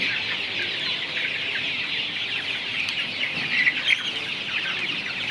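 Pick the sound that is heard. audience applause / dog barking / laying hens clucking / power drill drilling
laying hens clucking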